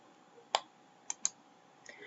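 A computer mouse clicks three times in quick succession, close and crisp, against near silence.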